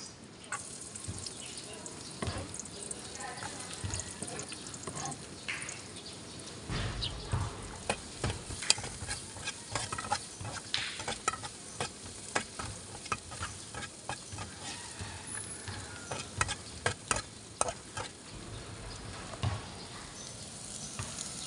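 Onion and garlic sautéing in a pan, a low crackling sizzle with scattered pops and stirring clatter over about twenty seconds, fairly faint, with brief talk in the background.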